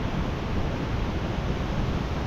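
Cannabullen Falls, a rainforest waterfall, gives a constant close roar of falling water. The broadband rush stays steady and full for the whole short stretch.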